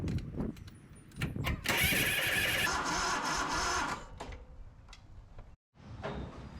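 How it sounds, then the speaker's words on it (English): An old 22-year-old Cub Cadet 2206 riding mower engine strains to turn over with the blades spinning, a loud grinding churn with clanks and knocks that cuts out abruptly, then resumes more quietly. "the engine's trying to turn over while the blades are spinning"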